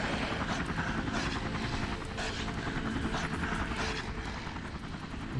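A helicopter flies in the Emergency 3 video game, with steady rotor chop and engine drone at an even, fairly close level, alone without talk.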